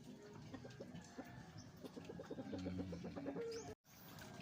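Young chickens pecking and feeding on mixed ipil-ipil leaves and feed, with soft clucks and peeping calls close by, fairly quiet over a faint outdoor background.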